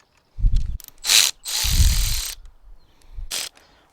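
Ratchet wrench loosening a 10mm nut on a battery terminal of a 2008–2018 Chevrolet Silverado, Sierra or Tahoe, in a few short bursts of clicking and grinding, close and fairly loud.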